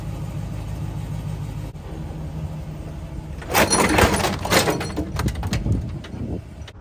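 A salvaged Chevrolet TrailBlazer SS LS2's door being torn off by a pulling truck: a steady low engine rumble, then a loud burst of grinding, creaking metal and clanks for a few seconds before it eases off.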